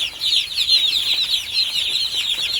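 A crowd of poultry broiler chicks in a farm shed, their high, dense peeping chirps overlapping continuously and close by, with no talk.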